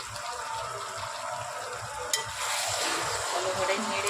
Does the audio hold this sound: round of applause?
no